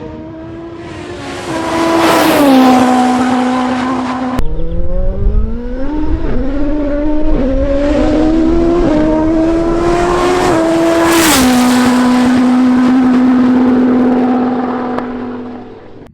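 Toyota 4A-GE engine in an Atlantic race car starting up and running, loud and close, revving up in rising sweeps, then settling to a steady idle before cutting off, no voices.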